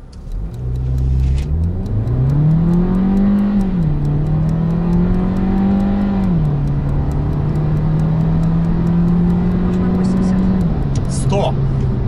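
A 2021 VW T-Cross with a 1.5-litre engine accelerating hard from inside the cabin, the loud engine note climbing steadily through the gears with clear shift dips, continuous and close.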